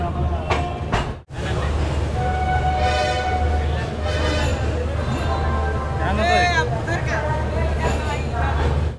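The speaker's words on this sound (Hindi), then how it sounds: "हमारी train Hazrat Nizamuddin railway station" Passenger train noise on the platform at Hazrat Nizamuddin railway station in Delhi, a steady loud rumble with squealing brake or wheel tones and brief announcements or voices in the background.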